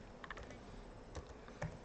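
Quiet typing on a computer keyboard, a scattering of light, irregular key clicks with a couple of firmer taps, heard close but faint with no talk.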